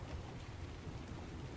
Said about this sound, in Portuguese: Ó, a chuva dentro d'água,